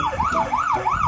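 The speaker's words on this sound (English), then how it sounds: "the only way they've found to get him back in the water is to honk their horns and turn on the sirens" Police car siren wailing in a fast, rising and falling yelp, repeating about three cycles, loud and close with road noise underneath.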